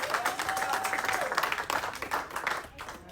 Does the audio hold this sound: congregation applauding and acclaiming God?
yes